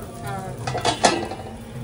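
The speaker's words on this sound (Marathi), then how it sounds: "तुपामध्ये चमचा पडलाय बघ।" A spoon clinks and scrapes against a pot of homemade ghee, a few short metallic knocks close by within a brief moment.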